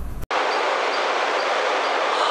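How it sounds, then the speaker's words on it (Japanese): A West Kyushu Shinkansen train pulls into its stop at Nagasaki Station, and a brief interior rumble gives way to a loud, steady, broadband rushing hiss that holds to the end. "そんなことね、言ってたら列車長崎駅止まりました。"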